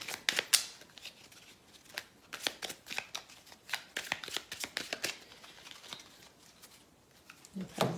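Tarot cards are gathered up and shuffled close by in quick, uneven bursts of papery riffling and tapping, with short pauses between.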